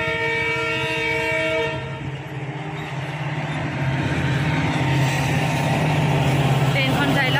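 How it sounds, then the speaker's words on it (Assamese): A train passes near a broken bridge, its rumbling wagons steady and loud with a sustained horn early on, while a person talks over it. "ট্ৰেইনখন চাই লওক।"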